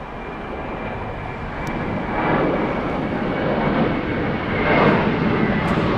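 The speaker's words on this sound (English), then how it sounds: "Saudia flying in from Jeddah." A Saudia airliner arriving from Jeddah at Los Angeles International Airport, a loud steady roar of jet engines that swells slightly as the aircraft passes close by, with no talking.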